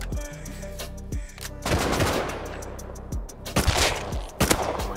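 AK rifle fire in the survival game Rust comes as sharp, loud shots in short bursts and single cracks, spread across the stretch with brief gaps between them.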